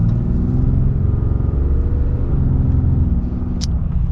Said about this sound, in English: So we are gonna get our full-blown acceleration here.